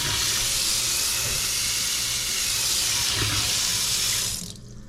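A kitchen sink faucet in an oceanfront resort room runs at strong pressure, giving a steady, loud, close rush of water for several seconds before it is shut off near the end.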